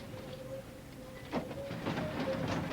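London Underground tube trains sit in a North London siding at twilight, giving off a faint steady electrical hum with soft clanks and rattles of rolling stock at a distance.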